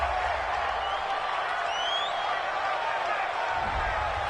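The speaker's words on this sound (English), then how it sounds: "Some boos coming down right now from this home crowd after that call." A home crowd at a Vikings versus Packers NFL football game boos in a steady, sustained roar of many voices, distant and diffuse, with no talk over it.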